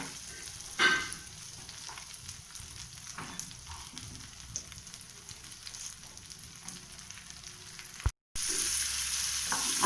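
Onion and cashews frying together in a pan for butter chicken, a soft, fairly quiet sizzle with one sharper clatter near the start, then a brief dropout followed by a louder, steady hiss at the end.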